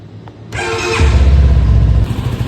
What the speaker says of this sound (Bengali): আপনাদেরকে বাইকটা আমি স্টার্ট দিয়ে দেখাই